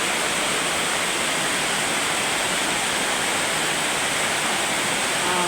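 Heavy rain pours down in a dense, steady hiss that stays loud and unbroken throughout, with no voices.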